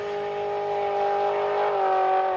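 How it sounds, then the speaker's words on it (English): A race car's exhaust note holds a sustained high tone that drops and changes character near the end as ignition timing retard from high intake air temperatures pulls power. "The tone of the exhaust changes."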